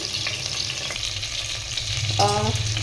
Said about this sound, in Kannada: ಓಕೆ, ಒಂದು ಸ್ವಲ್ಪ ಲಿಟಲ್ ಶಾಲೋ ಫ್ರೈ ಮಾಡೋಣ ಆಯಿತಾ